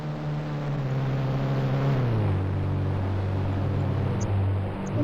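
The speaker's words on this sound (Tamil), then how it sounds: "Police helicopter." A police helicopter passes overhead as a steady, droning hum whose pitch drops midway through as it moves past.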